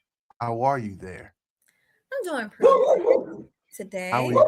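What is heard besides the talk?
dog barking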